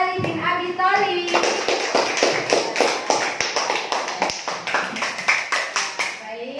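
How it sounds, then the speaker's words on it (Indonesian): A class of schoolchildren claps for a group of classmates in an Indonesian lesson, quick rhythmic hand claps gathering into a lively patter close by, with a voice briefly heard at the start. "Kasih tepuk tangan untuk kelompok Ali bin Abi Thalib"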